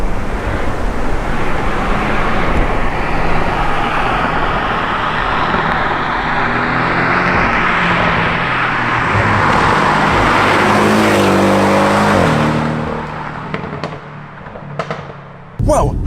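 Turbocharged engine of a Porsche 718 Cayman roaring steadily through its exhaust while driving, a loud continuous drone that rises in pitch and then drops away near the end, with no one talking.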